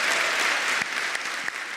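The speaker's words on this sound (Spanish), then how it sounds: "Dale un fuerte aplauso a Dios esta mañana" A church congregation at a morning service gives a strong round of applause to God, steady close clapping from many hands throughout.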